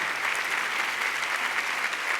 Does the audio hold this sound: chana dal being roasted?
no